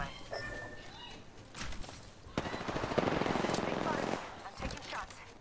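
Video game gunfire in a shooter match, a sustained mid-distance volley of rapid automatic shots with a few separate cracks before it, blended with footsteps and other game noise.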